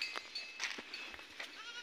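Goats bleating among mango trees at a rural spot in India where they are eating fallen mangoes, a few short faint calls spread over the clip against quiet outdoor background.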